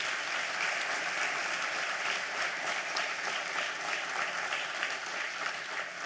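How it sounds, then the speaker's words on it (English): A hall of fame induction audience gives the inductee class another round of applause: dense, even clapping from a large crowd, sustained and unbroken for six seconds without speech. "Let's give them all another round of applause."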